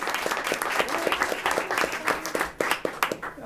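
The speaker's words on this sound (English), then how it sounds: "let's give them another round of applause." An audience at a school district board meeting applauds a student performance. Dense, sustained clapping from many hands runs throughout, with individual claps popping out of the steady roar.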